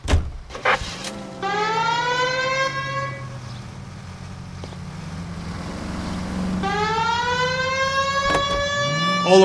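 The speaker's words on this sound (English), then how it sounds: "We have a siren." In the video game L.A. Noire, a police car siren sounds in two loud rising wails, separated by a stretch of engine rumble and road noise, with a thump near the end.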